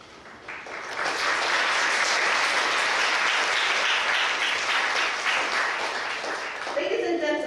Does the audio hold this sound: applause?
yes